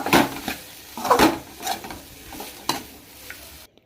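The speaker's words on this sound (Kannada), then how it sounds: "ಕಾಯಿ ತುರಿ ಅದು ಕೂಡ ಹಾಕೊಂಡು ನೀಟಾಗಿ ನೀವು ಫ್ರೈ ಮಾಡ್ಕೊಳ್ಳಿ" Grated coconut being stir-fried in a pan for a beans and potato sambar masala, heard as a few close scraping, rustling stirs with a soft sizzle, all alone with no voices.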